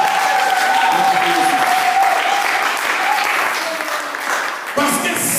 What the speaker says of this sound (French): Quelqu'un peut acclamer.